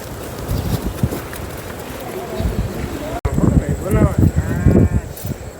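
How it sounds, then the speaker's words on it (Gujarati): Goats bleat several times amid farmyard noise at a herders' camp, their wavering calls clustering toward the end, with people's voices in the background. "અમારા ઓલામાં બધા બકરા છે"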